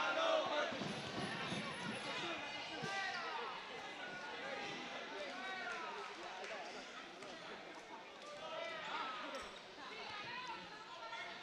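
A home crowd at a boys' high school basketball game against Chelmsford roars and cheers steadily in a gym as time winds down, with an announcer talking over the noise.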